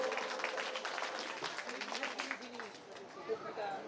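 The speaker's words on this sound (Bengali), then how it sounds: "ধন্যবাদ, করতালি, করতালিতে মুখরিত হোক" Audience applause rises at a primary school platinum jubilee ceremony, a soft, distant patter of many hands blended with crowd murmur and some talk in the background.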